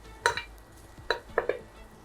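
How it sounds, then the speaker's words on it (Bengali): Shrimp drop into a pan of Bengali shrimp curry, making a few quiet soft thuds and clinks over a faint simmer, with no talking. "আর এখন আমি মাছগুলো দিয়ে দিব।"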